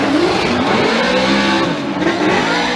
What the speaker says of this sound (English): Daigo Saito, good job riding that line. Vaughn Gittin Jr. applying the pressure